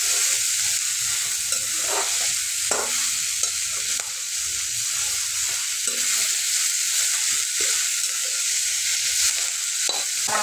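Fenugreek greens fry in a pan over low heat, a steady close sizzle broken by several scraping stirs of a spatula, with no talking.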